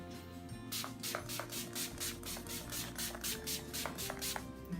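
Gerard Cosmetics Slay All Day rose setting spray is misted onto a face in a quick series of short, close pumps, each a bright hiss, with faint rustling between them.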